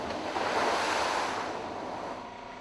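Logs dumped into water in Farming Simulator 22 raise a broad, steady rush of splashing water and surf-like wash that swells, then slowly fades, with no voices.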